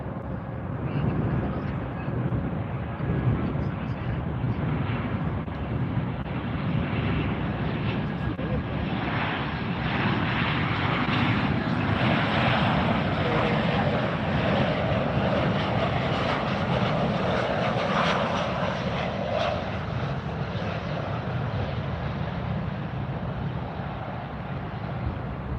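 A DC-3 propeller airliner takes off at Fort Lauderdale, its radial engines droning loudly and steadily for a long stretch with a rising, then fading roar, while people talk intermittently over it.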